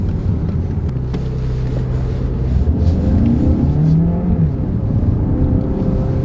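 A Citroen C5 X plug-in hybrid's engine revs and pulls hard from a standstill in Sport mode, a steady low roar rising in pitch, with wind rush over the microphone.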